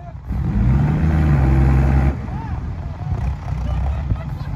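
A tractor engine labors loudly while pushing, a steady low drone that swells heavily over the first two seconds, then drops and carries on at a lower pitch, with voices talking over it.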